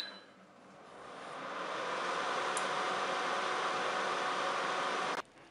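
A Cookeo multicooker starting a 50-minute cooking program, its steady whooshing hum swelling over the first couple of seconds, holding even, then cutting off abruptly near the end.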